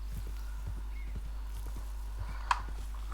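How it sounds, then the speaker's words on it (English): A horse at a camp stable in the video game Frontier: faint, steady hoof clip-clops over a low background hum, with one short sharp sound near the end. "Every camp gets a stable, so you can even call out your horse here."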